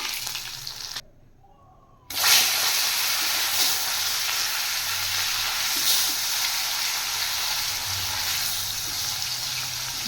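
Fish sizzles steadily in hot oil for a Bengali lunch, a dense, close frying hiss that drops out briefly near the start and then returns loud and continuous.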